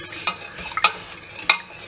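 Semolina being dry-roasted in a pan for rava idli gives a few light, sharp scraping clicks of a spoon stirring, faint and close against a quiet background.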